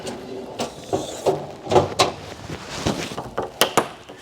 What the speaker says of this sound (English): Door just flips down, it's got a nice little catch up top.